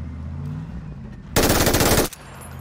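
A dense, rapid burst of automatic gunfire from a shooter in the battle-royale game PUBG, loud and close for about three-quarters of a second, then cutting off sharply into quieter game ambience.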